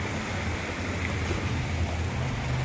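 Strong rushing water current outdoors during heavy rain and wind: a steady, dense roar of flowing water and gusting air, continuous and fairly loud throughout with no pauses.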